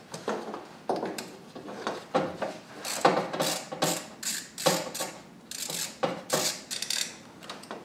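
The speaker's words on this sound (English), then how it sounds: "10mm, undo the harness first. I got a wobble extension on here." A ratchet fitted with a wobble extension works a 10mm nut free on the alternator of a 2009 Honda Pilot, giving a steady run of short, close clicking bursts of metal and ratchet pawl, fairly loud and with no talk over it.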